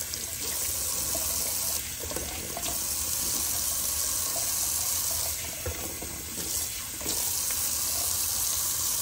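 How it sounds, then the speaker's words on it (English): Cold water runs steadily from a tap into a sink during a wet shave, a continuous close hiss and splash with slight shifts in flow, and no voices over it. "Alrighty, let's do a nice cold water rinse."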